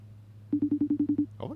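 An outgoing phone call ringing out: a quick series of about eight evenly spaced tone pulses, clear and close, followed by a brief electronic chirp.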